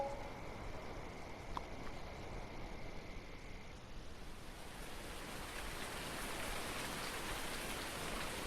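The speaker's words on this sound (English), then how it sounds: "And it's raining! I haven't had rain on FS" Steady rain in the video game Farming Simulator 19, a dense even hiss of drops pattering on surfaces, continuous and fairly soft with no voices.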